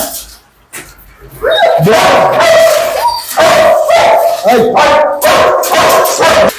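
German Shepherd dogs bark repeatedly and loudly at close range, several sharp barks in irregular bursts, some overlapping with higher yips.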